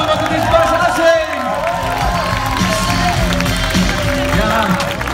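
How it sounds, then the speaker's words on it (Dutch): Crowd applause and cheering for football player Bas Assing, seen from a parade float; dense, continuous clapping with a murmur of voices that holds steady throughout, and a voice speaking over it. "geef hem een groot applaus"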